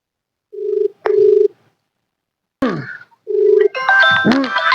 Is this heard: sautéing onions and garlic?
no